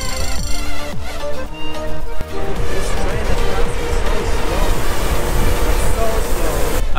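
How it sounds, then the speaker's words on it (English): A loud train rumbles past up close in Martigues, France, steady and continuous, with clattering wheels and a rising hiss of passing wagons. "this train is still passing by."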